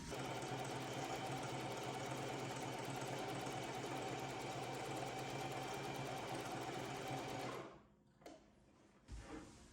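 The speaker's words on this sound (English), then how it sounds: "Before I cut off the corners, I am going to sew it down." A sewing machine stitches down chalk lines on a fabric gift bag, a steady close mechanical whir running continuously for most of the clip before stopping, followed by a few faint handling knocks.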